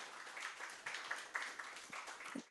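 Faint, scattered audience clapping at the 2025 National Growth Forum, a business policy forum, with light uneven claps over a short moment.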